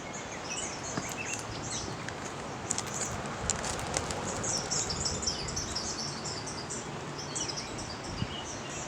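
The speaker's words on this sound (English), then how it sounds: "You got some birds up there singing their heart out." Birds chirp and sing in bursts over a steady outdoor background by the Sandusky River, fairly distant, with no talking.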